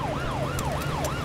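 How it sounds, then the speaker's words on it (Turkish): A police car siren in the video game GTA 5 wails in a steady, repeating rise-and-fall cycle, loud and continuous with engine rumble underneath. "Arkadaşlar bir polis arabası peşimizde."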